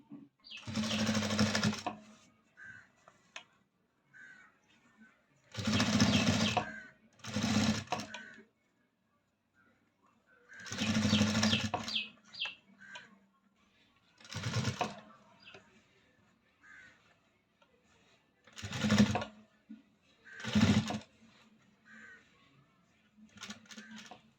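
A sewing machine stitches a blouse in repeated short bursts of fast, whirring runs, separated by quiet pauses, with faint handling noises in between.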